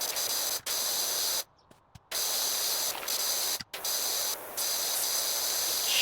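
A pressure washer sprays a porch in a video game, making a loud, steady hiss of water that cuts out briefly several times, with one longer pause, before resuming.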